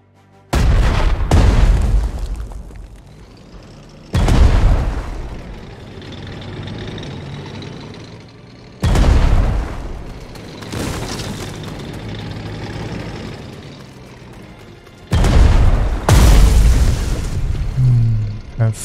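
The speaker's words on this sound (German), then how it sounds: "So, die Artillerie." Artillery fire in the strategy game Strategic Mind: Blitzkrieg, set on the Eastern Front, lands as four loud, heavy booms, each rolling into a long rumbling tail before the next blast.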